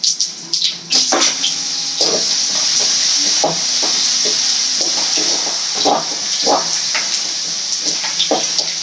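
Tomatoes added to frying chicken and stirred in a pan for a chicken thokku, with a steady sizzle under repeated scraping and clinking stirring strokes, close and fairly loud.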